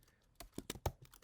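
A handful of quick, quiet keystrokes on a computer keyboard as text is typed into Photoshop, clustered over about a second with no talking.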